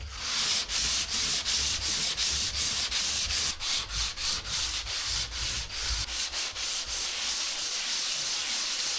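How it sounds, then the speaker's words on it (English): Steady electric sander buzzing against gyprock plasterboard, loud and close, with rhythmic strokes pulsing as the pad moves back and forth; no voices. "I'm just going to sand it back a bit"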